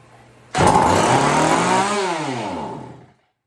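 A vintage Homelite 150 chainsaw fires up suddenly and runs loud and close with a raspy two-stroke buzz, then its pitch drops and it dies out after about two and a half seconds; no voices.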